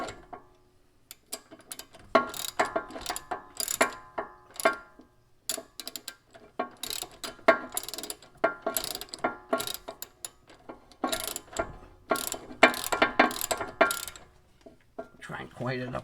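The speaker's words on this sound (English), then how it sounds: "Then I will get my ratchet. Give these a good" Ratchet clicking as brake caliper bolts on a Jeep Renegade are tightened, bursts of rapid metallic ticks with brief pauses, close up.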